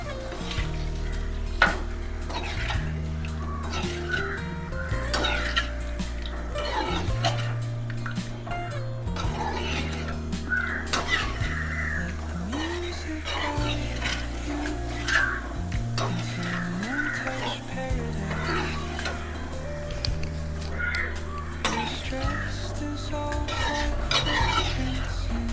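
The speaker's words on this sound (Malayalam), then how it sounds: "പുളിശ്ശേരിയിലേക്ക് നമ്മൾ ഈ താളിച്ചത് ഒഴിച്ചു കൊടുക്കാം. എന്നിട്ട് ഒന്ന് ഇളക്കി കൊടുക്കാം." Hot tempering hisses as it is poured into pineapple pulisseri curry in a pot and stirred, with steady close sizzling, repeated scraping strokes of a spoon and occasional light clinks of the pan.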